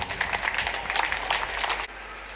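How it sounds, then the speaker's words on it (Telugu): A school audience applauds at a jubilee thanksgiving Mass, sustained brisk clapping from many hands that stops abruptly near the end. "అందరూ గట్టిగా చప్పట్లు కొట్టండి"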